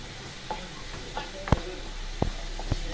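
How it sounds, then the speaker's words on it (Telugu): Green chillies and curry leaves fry in hot oil in a pan, giving a steady soft sizzle and hiss with a few sharp stirring clicks and scrapes close by. "ఐదారు పచ్చిమిరపకాయలు, కొంచెం కరివేపాకు వేసుకున్నానండి."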